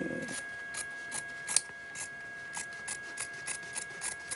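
Scissors snipping recycled denim jean fabric into a strip: a series of crisp, evenly spaced cuts, close and fairly quiet, with no talking.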